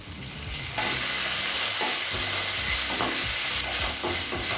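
Tomatoes drop into a hot pan of softened sliced onions and fry with a loud, steady sizzle, with a few stirring knocks over it, close up and without talk.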